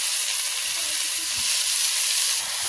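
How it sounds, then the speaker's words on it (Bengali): Chopped leafy greens hit frying onions and green chillies in a wok, giving a steady loud hissing sizzle that continues throughout without voices. "এবার দিয়ে দেবো কেটে রাখা শাক।"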